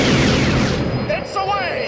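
A loud booming blast from a Stormtrooper suit's miniature proton torpedo launcher, a sci-fi sound effect that rolls into a rumbling decay while whistling, sweeping tones follow in the second half.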